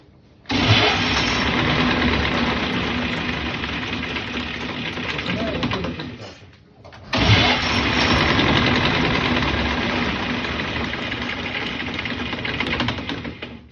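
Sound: test stand motor starting up

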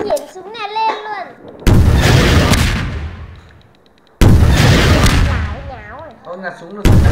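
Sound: gunfire from a gun in the video game Skibidi Toilet

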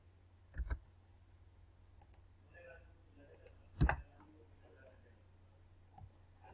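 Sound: mouse clicking

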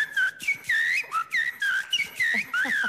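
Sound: whistled imitation of a thrush song

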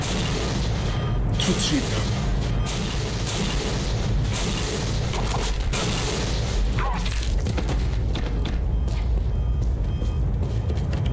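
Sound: missile explosions in video game Postal 2

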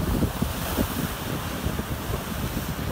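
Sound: sea waves at rocky shore, Ganh Da Dia, Phu Yen

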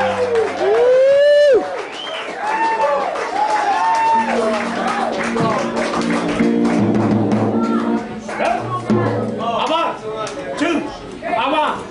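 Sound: audience applause for John Nemeth at a live show

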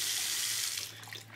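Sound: tap water running into bathroom sink while washing hands

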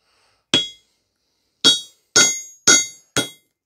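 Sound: hammering ceramic cap off old HRC fuse

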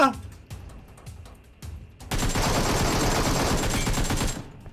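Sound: gunfire in the video game PUBG Metro Royale

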